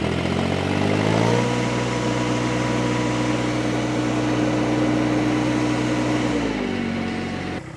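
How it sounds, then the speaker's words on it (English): A mini skid steer fitted with a forestry mulcher revs up steadily, its engine holding a loud, even drone with a rising whine from the spinning head, then easing down near the end; no one speaks. "But watch this thing spin. Let me rev it up for you."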